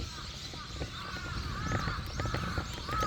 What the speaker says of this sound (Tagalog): May mga uwak na mga nagsisipaglaro.